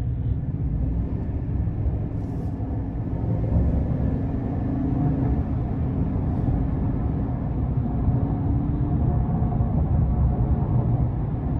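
A 2022 GMC Sierra 1500 Denali pickup with the 6.2 engine hums under light throttle, heard from inside the cab as a low, steady rumble that swells slightly partway through, with no talk over it.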